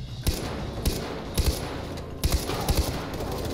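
Bursts of rapid gunfire in Far Cry 4 online, several volleys of sharp shots in quick clusters over a steady background rumble.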